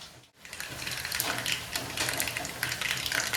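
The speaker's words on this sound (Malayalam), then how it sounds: "എണ്ണ ചൂടായി വന്നിട്ടുണ്ട് ഇതിലേക്ക് കടുക് ഇട്ട് കൊടുക്കാം" Mustard seeds dropped into hot oil for a Kerala-style tempering crackle and pop in a dense, continuous burst of sharp little snaps after a brief dip at the start, close and loud.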